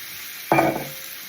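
Browned mince for a shepherd's pie goes back into the pan with one short, sharp sizzle that quickly fades into quiet.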